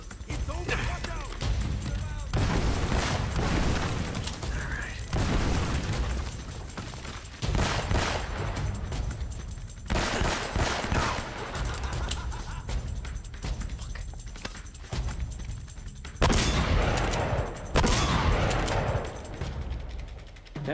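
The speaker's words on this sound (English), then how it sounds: "the shotgun kind of sucks" Shotgun blasts in the Uncharted: Nathan Drake Collection game, loud bursts at irregular intervals amid other gunfire and combat noise, with voices talking over the action.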